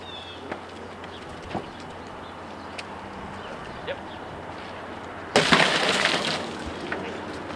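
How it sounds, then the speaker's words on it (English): A sudden burst of a car's side-window safety glass shattering during a fire department extrication demonstration breaks out after several quiet seconds marked by a few faint knocks, then fades over about two seconds. "It's safety glass where you just punch a small area with a sharp object, will just shatter."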